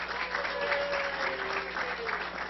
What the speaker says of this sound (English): give Mouse a round of applause